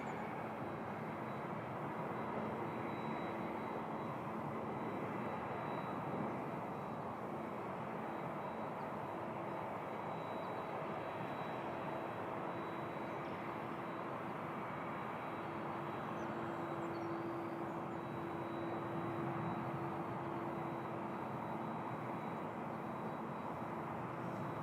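A distant airliner at Toronto Pearson airport, bound for Warsaw, gives a steady low engine rumble with a faint tonal whine, holding even and continuous throughout with no voices.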